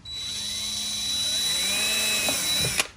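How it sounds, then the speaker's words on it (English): A power drill whines steadily at high speed, close and loud, its pitch wavering slightly as it bites into cracked ATV plastic before stopping with a click. "I'm going to go ahead and drill one right here in the middle"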